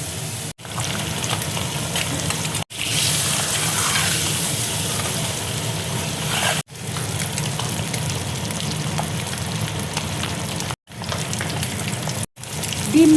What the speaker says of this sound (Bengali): এবার আমি ডিমগুলো এক এক করে ছেড়ে দেবো।